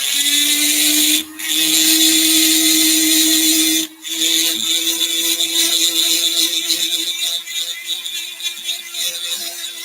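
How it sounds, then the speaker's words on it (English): A rotary tool at high speed carves about a millimetre deep into an annealed steel axe head, giving a loud, steady, high-pitched whine. It cuts out briefly twice, then grinds on with an uneven, rasping texture. "I'm carving in about a mil deep here."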